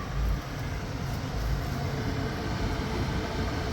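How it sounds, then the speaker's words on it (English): The fan of a Pit Boss 1600 Elite pellet grill keeps running after the grill has shut off, a faint, even whirring hum that stays steady throughout with no talking. "You can still hear the fan running."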